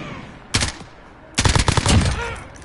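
Two bursts of M4A1 rifle fire from a Modern Warfare match, loud and close: a brief volley, then a longer rattling string of rapid shots.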